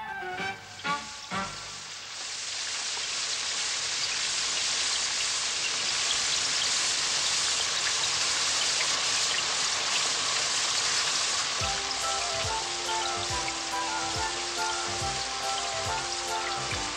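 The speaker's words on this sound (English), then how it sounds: "I think it's going to rain!" A few soft taps, then a steady hiss of rain pouring down, continuous and fairly loud, with some low thuds and patter late on.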